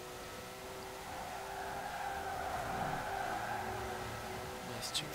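1971 Porsche 917/20 race car in Forza Horizon 4 accelerating at high speed, a continuous loud engine drone with tire and wind noise, steady throughout.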